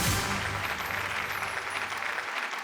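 An audience at an insurance awareness quiz competition applauds in a steady, fairly distant round of clapping that thins out toward the end.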